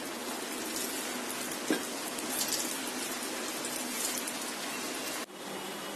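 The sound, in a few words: egg fries frying in hot oil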